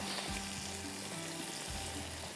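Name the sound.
spices and ingredients frying in a pan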